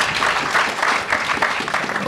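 An audience at a minimum wage debate breaks into brief, dense applause, a steady wash of many hands clapping with murmurs mixed in.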